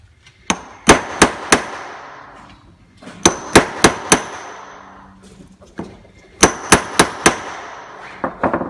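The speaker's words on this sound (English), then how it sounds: "Just gonna give it a few more good whacks." Hammer blows on a shot plate during jewelry making ring out as sharp metallic clangs, struck in quick bursts of four with short pauses between, loud and close.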